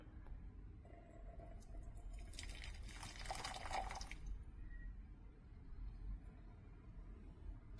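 Water trickles and drips from a leaking Mueller Rapid Boil 1.8-litre borosilicate glass and stainless steel electric kettle as it pours, a faint, quiet burst of splashing lasting about a second in an otherwise still room.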